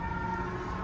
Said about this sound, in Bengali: আর রাস্তার আওয়াজ, সাইরেন